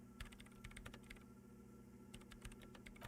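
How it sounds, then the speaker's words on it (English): Hands type rapidly on a computer keyboard in Disco Elysium, a dense patter of soft key clicks over a low steady hum, faint and continuous with no voices. "Her hands typing hundreds of commands into the machine."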